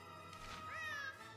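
A single short, rising meow, likely a person's voice imitating a cat, is heard alongside the video game Gravity Rush 2, close and fairly quiet.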